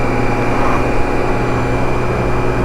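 A BMW K1600 GTL motorcycle engine cruising gives a loud, steady, smooth droning hum with even tonal layers and no breaks.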